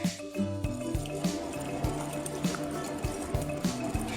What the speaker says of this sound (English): And then I'm just gonna whisk that all together.